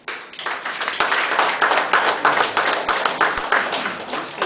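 An audience at a customs system launch event claps for a consultant, a burst of clapping that starts quickly and holds steady and fairly loud, with individual claps audible in the mix.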